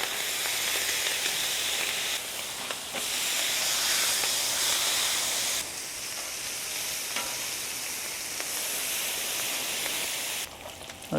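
Bulk bacon frying in a pan, a strong steady hissing sizzle that swells and eases in waves, close and without speech.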